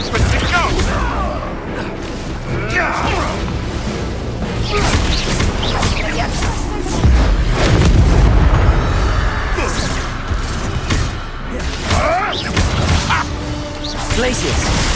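Hogwarts Legacy combat: Confringo blasting-spell explosions, crashes, booms and whooshes from a busy spell fight, loud and repeated, with character voices talking over the action.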